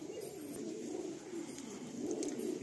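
Pigeons at a breeder's loft in Kolkata give a continuous, low, rolling coo that swells and fades in waves, moderately close, with no talk over it.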